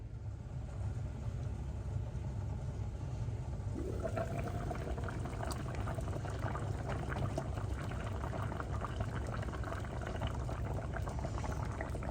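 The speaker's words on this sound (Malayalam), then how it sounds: "നല്ല അടിപൊളിയായിട്ട് തിളച്ചിട്ടുണ്ട്" White tuna fish curry, Kerala style, boils steadily in a pot on the stove, a constant low bubbling simmer with a brighter liquid crackle joining partway through.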